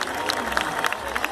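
Audience applause at a live stage show: a dense, steady wash of clapping from a crowd, moderately loud and continuous throughout, with crowd murmur mixed in.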